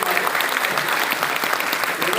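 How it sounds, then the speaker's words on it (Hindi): A seminar audience gives a welcoming round of applause, dense steady clapping filling the room throughout, with a voice faintly underneath. "अपन उनका जोरदार ताली से स्वागत करेंगे"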